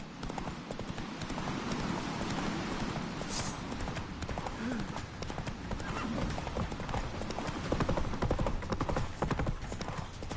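Roach the horse galloping in The Witcher 3, a rapid steady clip-clop of hooves throughout with a brief whinny, under continuous game action noise and occasional voices.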